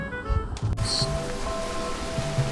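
Rain falls steadily in the video game Minecraft, a dense even hiss with a brief tonal game sound early on, fairly loud and continuous, with no talking over it.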